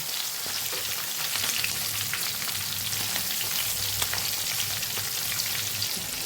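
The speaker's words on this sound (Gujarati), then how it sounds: "આવી રીતે ફેરવતા ફેરવતા મરચાંને સરસ આપણે તળવાના છે." Stuffed green chillies, Kathiyawadi style with coriander-cumin filling, fry in hot oil while being turned, giving a loud, continuous close sizzle and crackle with occasional pops.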